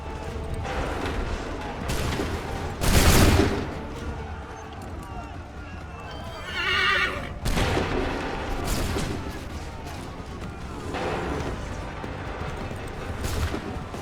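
Musket volley in Assassin's Creed III, a sharp broadband crack near three seconds and further shots around eight to nine and thirteen seconds, set amid battlefield din with shouted commands.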